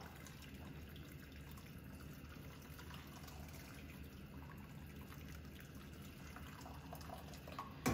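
Warm water pours steadily into a pot of mushrooms in a home kitchen, a continuous close splashing gush that runs without pause and ends with a brief knock.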